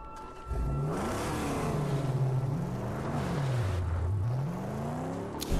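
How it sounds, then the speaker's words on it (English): Cars drive in the Mad Max video game, with an engine revving up and down steadily and close by for several seconds, with no talk over it. "I hear cars."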